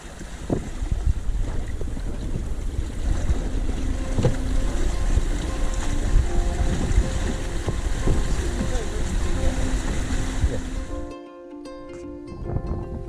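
A sailboat sails on a reach in freshening wind along a sound near the island of Shuna, passing a fish farm. Steady wind rush and water wash run throughout, then thin out sharply near the end.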